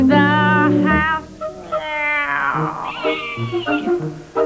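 Several cat meows in a row, loud and close, drawn-out and wavering in pitch, with short gaps between calls and no talking.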